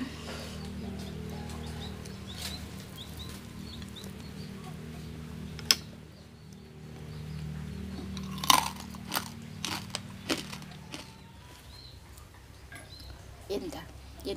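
Crispy Thai roast pork leg being bitten and chewed up close, with scattered crunchy bites rising over a low steady background hum and soft talk.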